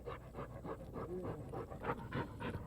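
A male hunting dog pants rapidly and rhythmically close by, quick breaths repeating steadily with no talk over them.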